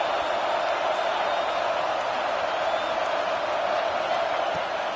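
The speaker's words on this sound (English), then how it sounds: "The roar of the crowd trying to fuel this defense to keep them pinned in their own end." At a college football game, a large stadium crowd sustains a dense, steady roar that stays loud and constant throughout with no breaks, sounding distant and broad rather than close.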